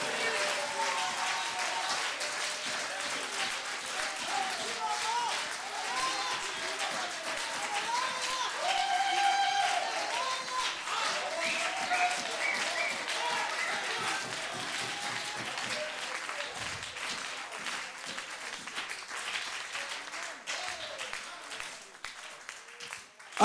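Church congregation applauding and acclaiming during worship, a sustained dense wash of clapping and cheering voices that swells midway and slowly tapers, with singing or shouting mixed in.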